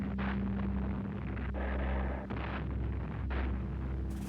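Heavy naval gunfire bombards Mount Suribachi during the preliminaries to a World War II Pacific island landing, heard as a dense, continuous low rumble of distant shelling with a few sharper blasts in an old documentary soundtrack.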